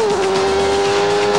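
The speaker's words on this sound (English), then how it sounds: "you can hear the engine revs go up" A 1993 Newman-Haas IndyCar engine revving at racing speed, a loud, steady high-pitched whine that climbs slightly as the car runs flat out over a hill.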